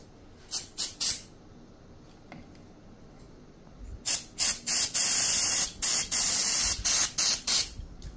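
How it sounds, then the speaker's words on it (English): Contact cleaner sprayed onto a Hisense washing machine circuit board: a few short hissing bursts first, then after a pause a rapid series of longer, loud, close spray blasts with brief gaps between them. "clean the PCB with the contactor cleaner"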